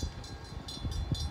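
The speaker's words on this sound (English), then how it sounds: "Here comes the train right here" A loaded CSX coke train rolling over a railroad diamond makes a low, steady rumble with rhythmic wheel knocks and faint squealing, heard at moderate distance.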